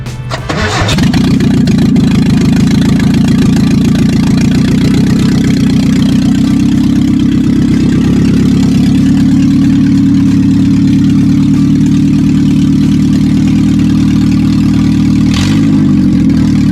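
A lowered Nissan D21 Hardbody with a direct aftermarket drag exhaust cranks and fires, then settles into a loud, steady, throaty idle close by, with a brief blip near the end.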